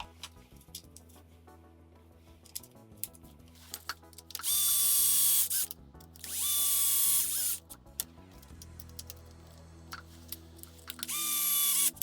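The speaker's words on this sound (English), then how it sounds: "We'll get these other 2 screws in on the bottom now." A drill drives screws into the plastic front bumper of a Kraton XL RC car. Three separate high-pitched whirring bursts of a second or two each stand out clearly over quiet background rattles and taps.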